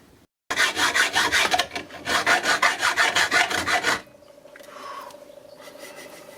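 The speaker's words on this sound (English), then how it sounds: "And now we're going to fit the hinges." Hinges being fitted to custom-made shower doors during a bus conversion, heard as loud, close bursts of rhythmic rasping and scraping strokes, then a quieter stretch with a faint steady tone.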